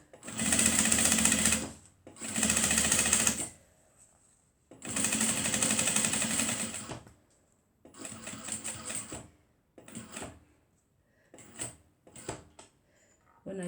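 Domestic sewing machine stitching a foldover clutch purse, running in several long steady bursts that give way to shorter stops and starts, with mechanical clicks in the gaps between runs.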